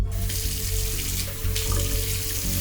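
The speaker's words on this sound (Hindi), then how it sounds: "चेहरे पर पानी मार मार कर आंसू और चेहरा धोया।" Water runs and splashes at a hotel bathroom sink as someone washes their face, a loud, continuous gush from the tap with brief surges of splashing, close by and without voices.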